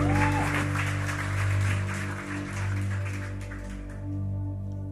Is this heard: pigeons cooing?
no